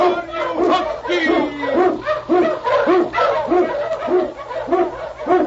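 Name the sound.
husky sled dog barking, radio drama effect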